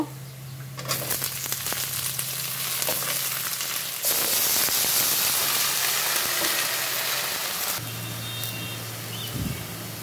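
Onions fry in a pan before bottle gourd greens go in, giving a dense, hissing sizzle that swells louder midway and settles again, with a low hum running underneath.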